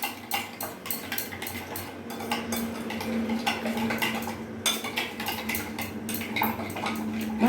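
A spoon stirs ground cumin and sugar in a pan for a cauliflower korma, giving repeated close scraping and clinking against the metal, steady and uneven throughout with no talk.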